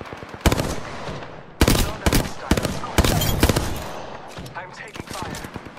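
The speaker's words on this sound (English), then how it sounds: "I'm taking fire." Heavy gunfire in an Apex Legends fight comes in dense, loud rapid-fire bursts and single sharp shots, close up, with game effects and brief voice callouts mixed in.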